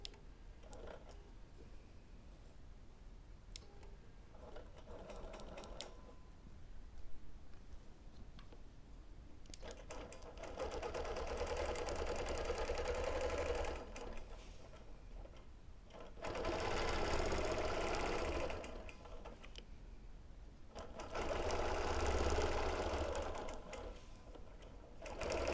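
A sewing machine runs in several sustained bursts during free motion quilting with a ruler, each stretch of steady whirring stitching separated by quieter pauses, close and moderately loud.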